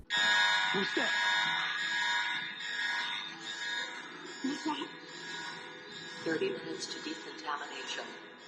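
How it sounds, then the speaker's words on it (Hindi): A steady electronic warning buzzer drones continuously as CDC destruction approaches, loud and sustained through the whole stretch, with occasional faint clatters and movement sounds beneath it. "तभी एक बज़र बजता है"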